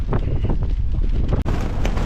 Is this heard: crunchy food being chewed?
no